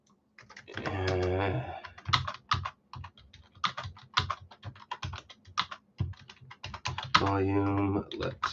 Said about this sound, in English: Let me just type this up in the comments real quick here.